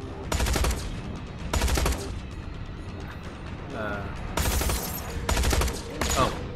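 Bursts of automatic gunfire from the video game Tales from the Borderlands, four or five loud rapid volleys separated by short gaps, with mechanical clatter and faint game sounds between them.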